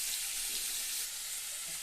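Crabs sizzle and fry in a masala-coated pan, a steady dense hiss running close and continuous without pause.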